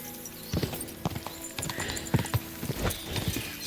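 Rapid clip-clop of horse hooves at a gallop in the video game Kingdom Come: Deliverance II, a steady drumming rhythm heard close up with no talk.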